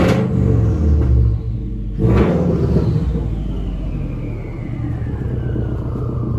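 A Subaru WRX fitted with a Tomei exhaust revs hard twice, a loud, close, throaty roar that rises and then falls back into a deep rumbling idle.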